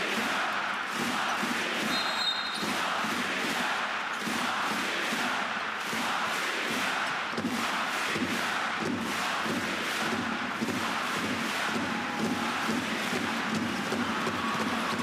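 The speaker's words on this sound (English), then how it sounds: "There's a big crowd in here tonight." A large crowd fills an indoor basketball arena before a FIBA World Cup 2023 qualifier between Latvia and Turkey, a loud, steady roar of voices and cheering with scattered thumps and rhythmic clatter throughout.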